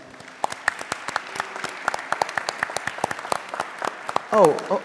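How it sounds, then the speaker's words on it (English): Scattered audience applause at a town hall meeting on affordable banking, a thin patter of individual claps fairly near, with a voice breaking in near the end. "Give him a round of applause."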